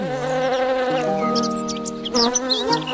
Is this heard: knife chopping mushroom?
no